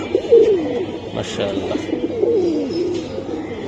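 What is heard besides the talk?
pigeons cooing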